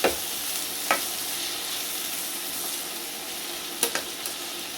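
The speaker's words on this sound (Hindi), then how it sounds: "सब्जियों को हमें कुछ बहुत ओवर कुक नहीं करना है, बस एक इसका कच्ची स्मेल ख़त्म हो जाए वहाँ तक कुक करना है।" Vegetables for chicken shawarma sauté in a hot pan with a steady, close sizzle, broken by a few sharp scrapes and knocks as they are stirred.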